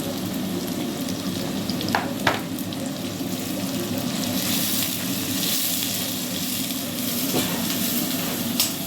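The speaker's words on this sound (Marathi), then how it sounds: "कांदा जरा फ्राय झाला की" Sliced onion with salt frying in a pan, a steady close sizzle running throughout with a few light scraping clicks of stirring.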